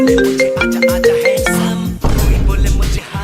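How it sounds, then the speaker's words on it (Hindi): A mobile phone ringtone plays loud and close as a repeating tonal melody, then gives way to a thicker, noisier musical passage near the end. "किसका फोन है?"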